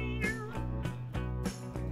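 In a video game, a cat gives a couple of short meows in quick succession while a vehicle takes a hard curve, heard clearly over a steady low hum.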